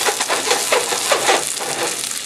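Vegetables frying in oil in a skillet, giving a loud, dense, continuous sizzle with crackling pops and faint shaking movement, close and alone.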